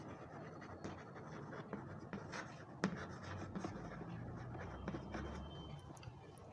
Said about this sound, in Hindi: यहां से लिखते हैं